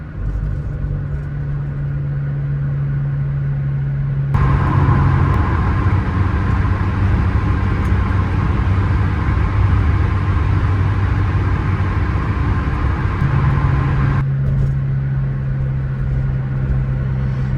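A 1991 Saab 900 Carlsson runs steadily with a low, even engine rumble. Midway the sound grows louder and fuller as the car drives, then settles back to the calmer running note near the end, with no voices.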